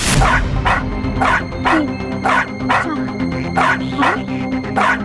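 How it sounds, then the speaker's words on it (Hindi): A toy dog barks in a loud, evenly spaced series of six sharp yips, close and clear over a steady electronic background hum. "ये एक टाइम पे 6 बार भौंकता है और उसके बाद बैठ जाता है।"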